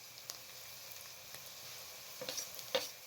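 Onion, garlic and ginger frying in hot cooking oil, a faint soft sizzle with a few light stirring clatters toward the end, no voices.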